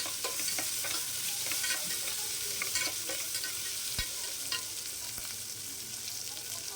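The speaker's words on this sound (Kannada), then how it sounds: "ನೆಕ್ಸ್ಟ್ ಅದಕ್ಕೆ 2 ಈರುಳ್ಳಿ ಕಟ್ ಮಾಡಿ ಇಟ್ಕೊಂಡಿದ್ದೆ, ಅದನ್ನು ಆ್ಯಡ್ ಮಾಡ್ಕೊಂಡಿದ್ದೀನಿ. ಅದನ್ನು ಹಾಕಿ ಎಣ್ಣೆಯಲ್ಲಿ ಚೆನ್ನಾಗಿ ಫ್ರೈ ಮಾಡಿ." Chopped onions with ginger-garlic paste fry in hot oil for a soya chunk pulav, a steady loud sizzle broken by scattered stirring scrapes and taps, with no voices.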